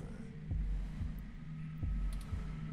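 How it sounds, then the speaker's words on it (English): A steady, heavy heartbeat thumps in the video game 2064: Read Only Memories, four or five deep low pulses spaced evenly over a soft background hum. "Your heartbeat is like sonar to me. The louder it pounds, the faster I race to stop it."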